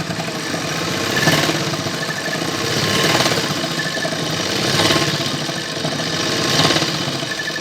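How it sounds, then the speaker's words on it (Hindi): A sewing machine stitches elastic onto a baby pant with a loud, continuous mechanical whir and rapid needle chatter that swells and eases in regular surges about every two seconds. "इस तरह से अच्छे से सिलाई लगा ले ताकि इलास्टिक टूटे नहीं"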